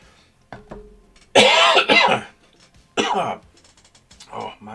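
A man coughs and clears his throat during a tabletop miniatures hobby session, with a few sharp, loud hacking bursts separated by quieter pauses, close to the microphone.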